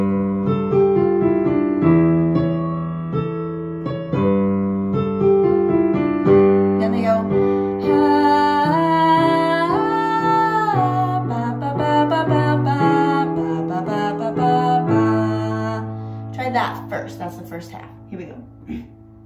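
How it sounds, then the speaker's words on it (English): Piano playing a part from a song, a steady flowing run of chords and melody lasting about twenty seconds, clear and close with no voices over it. "So that's after the little piano part that sounds like this."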